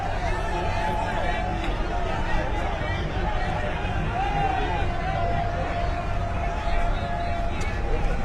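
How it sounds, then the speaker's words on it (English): A crowd cheers the Liberian president, Joseph Boakai, at a bus dedication on a busy island street, a steady, dense hubbub of voices and shouts, with a voice talking over it. "there you have people cheering His Excellency"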